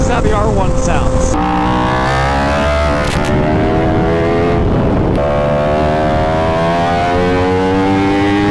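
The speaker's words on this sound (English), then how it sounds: "this is how the R1 sounds" Yamaha R1 sport motorcycle exhaust revving hard, a loud, close engine wail rising and falling in pitch through several sweeps, with a sharp blip partway through.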